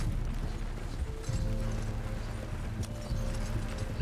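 Horse hooves clip-clop steadily in Red Dead Redemption 2 in an old-west setting, a close, continuous rhythmic plodding with faint mechanical rattling beneath and no talking.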